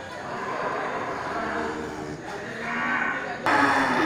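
Simmental cattle at a livestock sale low with a drawn-out moo amid a busy pen background, with a louder burst of noise near the end.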